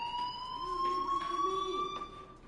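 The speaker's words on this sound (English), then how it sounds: "do you hear that fire alarm? That means you should be outside." A fire alarm rings in the Life is Strange Remastered video game with a steady, loud electronic tone that holds throughout without a break. No one speaks.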